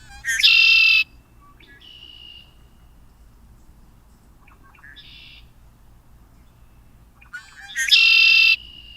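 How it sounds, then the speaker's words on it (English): Recorded birdsong played back for identification, with a loud bright chirping phrase at the start, softer shorter calls in between, and another loud phrase near the end over a quiet background. "we're going to see what this bird was"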